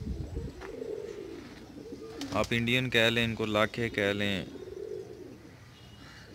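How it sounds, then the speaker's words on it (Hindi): Indian pigeons coo softly nearby in short, low, rounded calls at the start and end, with someone speaking over the middle stretch. "ये इंडियन कबूतर है"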